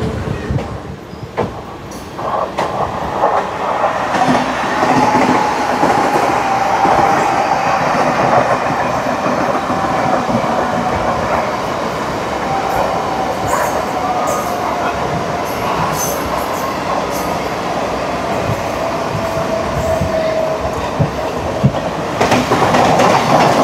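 A Vasai–Diva MEMU local train runs along Central line tracks, its steady loud rumble and rhythmic clatter of wheels filling the whole stretch, with occasional squeals and clanks and no voices.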